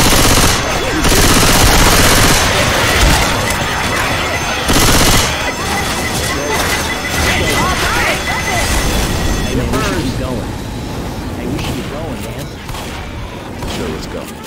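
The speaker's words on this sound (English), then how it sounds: "I guess I'll take this here machine gun" A mounted machine gun in Left 4 Dead 2 fires in loud, rapid, sustained bursts at close range, with excited player voices talking over the clatter.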